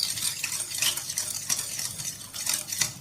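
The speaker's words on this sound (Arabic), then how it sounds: "وهقلبهم ادوب السكر كده مع باقي السمنه مع شويه الفانيليا مع كوبايه اللبن" A spoon stirs sugar, ghee, vanilla and milk in a pot as the sugar melts, giving repeated close scraping and clinking strokes in an uneven rhythm with a faint sizzle beneath.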